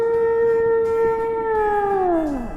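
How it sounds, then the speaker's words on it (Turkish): A long, low moaning tone holds steady and then slides downward at the end, a single drawn-out whale-like call. "Balina."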